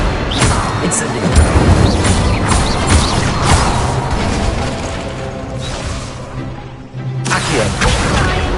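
Fire spell cast in a Harry Potter video game, a loud burst of crackling whooshes and impacts layered with clattering effects, briefly dropping out near the end before resuming.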